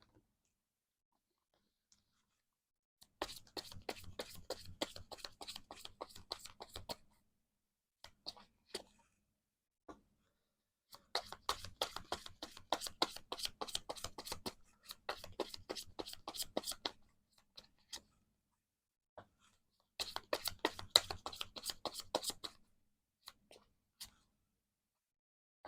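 Tarot cards being shuffled in three separate bursts of quick, crisp clicking and riffling, fairly close but quiet, with silent gaps between them and no speech.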